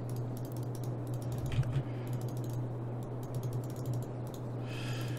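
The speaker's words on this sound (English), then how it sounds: "Ignore all the mouse clicking if you guys can hear that." Rapid, light computer mouse clicks come in clustered bursts throughout, close and fairly faint over a steady low electrical hum.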